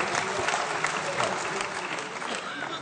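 Members of a parliament applaud a new minister after his first speech, a steady wash of clapping from many hands in a large chamber, sustained without a pause.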